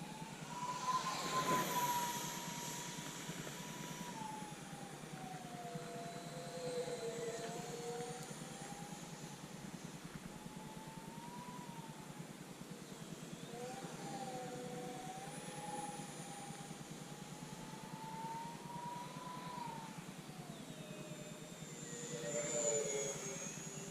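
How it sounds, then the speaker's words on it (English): A steady whining jet-like hum of twin 40mm electric ducted fans drifts up and down in pitch as an XFly Su-57 RC jet passes at a distance, fairly faint. "I think I have 2 EDF fans in it."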